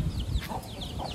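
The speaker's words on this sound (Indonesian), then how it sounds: "Ini ada ayam kecil-kecil." Small young chickens clucking nearby in short, repeated calls, with a low rumbling background and no talking.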